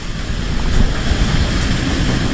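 Strong, roaring wind from Typhoon Ulysses in the Philippines, with a steady broadband rush and low rumble, gusting slightly louder near the start, close and loud, with no voices.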